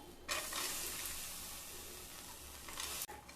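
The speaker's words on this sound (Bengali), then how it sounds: "এবার মসুর ডালগুলোকে শুকনো খোলায় ভেজে নেব।" Masoor lentils dry roasting in a hot, oil-free pan: a steady, soft hissing rattle of stirred grains for about three seconds, alone without talk, then a brief break near the end.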